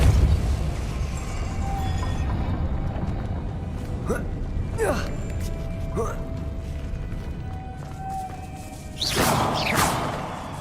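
Depulso spell cast in the game Hogwarts Legacy, a few sharp magical whooshes and bursts over a busy mechanical background hum, with a louder swelling blast near the end and a voice briefly heard.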